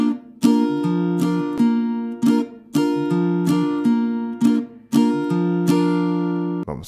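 An acoustic guitar is strummed slowly in a pattern: about eight firm, ringing downstrokes, each cut short by a muted stop, played alone and up close.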